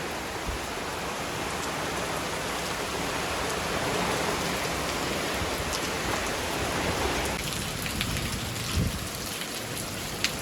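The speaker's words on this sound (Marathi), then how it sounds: "जाम जोरान पाऊस आले" Heavy rain pours steadily in a dense, continuous hiss, easing slightly near the end with a few louder drops and splashes close by.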